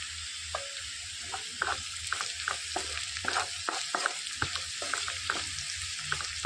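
Onions and other vegetables fry in a pan for a snake gourd curry, with a steady close sizzle broken by repeated scraping knocks of a spoon as the mix is stirred, and no voice.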